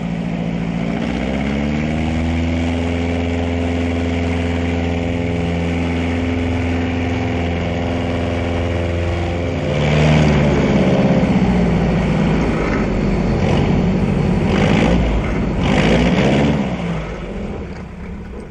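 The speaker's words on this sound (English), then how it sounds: "I taxi off to the left here to get out of the bowl to take off again" A small plane's propeller engine idles steadily after landing on a bowl-shaped strip, then swells to a rougher, louder drone as it taxis off to the left, heard close up from the cockpit.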